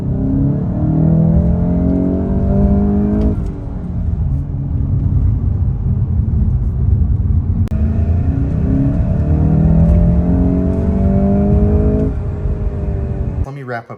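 A 2022 Volkswagen MK8 GTI accelerating hard from inside the cabin, its engine rising through the gears in repeated sweeps with brief dips at each shift, loud and continuous against road rumble.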